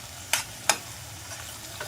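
Onion and capsicum sautéing in a pan, a soft background sizzle broken by two sharp stirring scrapes early on and fainter clinks of the spatula later.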